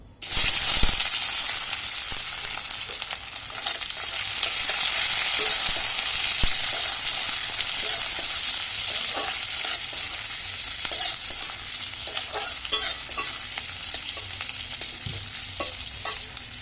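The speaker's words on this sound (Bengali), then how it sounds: "চলো প্রথমে আমার এই কেটে রাখা পেঁয়াজটা আমি এবার দিয়ে দিলাম।" Chopped onion frying in a pan for rajma, with a loud, steady sizzle and hiss carrying on unbroken, occasional soft scrapes of stirring on top.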